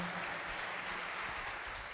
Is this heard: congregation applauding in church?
yes